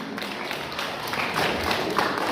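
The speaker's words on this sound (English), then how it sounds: "Can we have a big round of applause for them?" Applause from a school audience at an inter-school quiz competition, a steady, moderately faint patter of many hands clapping throughout with no talking over it.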